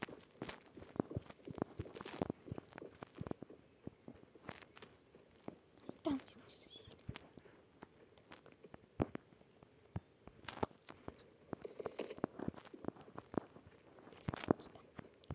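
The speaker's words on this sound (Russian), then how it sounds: "А то сверху прям топот слышу." Footsteps from above in the shooter game Standoff 2, heard as irregular, fairly faint thumping steps spread over about fifteen seconds, with quiet talk at times between them.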